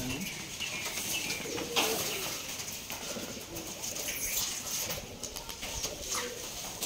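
Rajshahi Giribaz pigeons at a pigeon farm coo under a dense, continuous wash of outdoor noise that stays steady and fairly loud throughout.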